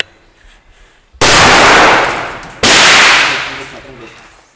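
Two loud, close rifle shots fired on command by Philippine special forces during a field engagement, each a sharp crack with a long decaying echo, about a second and a half apart.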